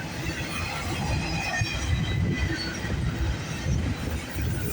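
A CPKC freight train near Milton, Ontario gives off a steady, fairly faint low rumble with some wheel noise, heard continuously from a distance with no voices.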